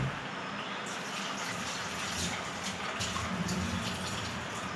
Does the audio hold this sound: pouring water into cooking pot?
yes